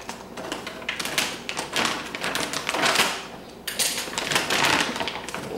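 Packaging for a Tarot X8 TL8X000 1050mm octocopter frame gets cut open, with crinkling plastic, rustling and sharp snips and tearing bursts coming close and loud in uneven clusters.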